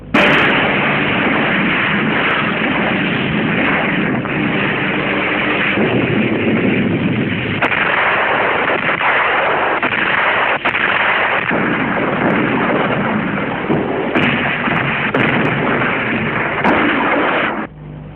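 Heavy aerial bombardment and gunfire during the Biafran war, a loud, continuous roar of explosions and bursts of fire that runs for the full length, recorded with a narrow, muffled quality.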